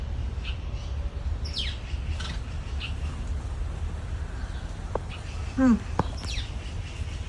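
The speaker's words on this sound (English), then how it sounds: "Beautiful bird." A single bird calls outdoors in the morning, a short clear rising-falling call near the end over steady outdoor background noise, with a few faint chirps earlier.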